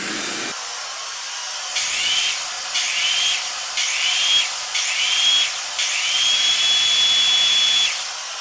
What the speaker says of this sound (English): I'm going to leave the vacuum on, and then I'm going to trigger the miter saw several times.